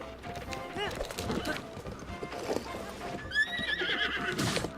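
Horse in Zelda Breath of the Wild neighing loudly while galloping hooves clatter beneath, several whinnies over continuous hoofbeats with game noise around them.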